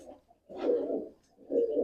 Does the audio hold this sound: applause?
no